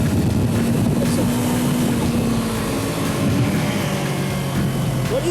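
A 2015 Yamaha R3 motorcycle engine, opened up from low RPM, gives a steady loud droning rumble for about five seconds with a faint rising tone near the end.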